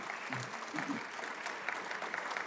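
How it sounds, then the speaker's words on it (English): Applause fills a crowded room at an artist talk, a steady patter of clapping while a voice speaks briefly over it near the start. "can do you hear that applause?"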